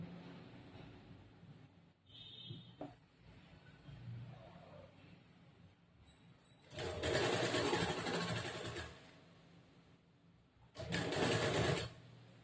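A sewing machine stitches the shoulder joint of a blouse, two close bursts of rapid whirring, the first several seconds long and the second shorter, separated by quiet handling sounds.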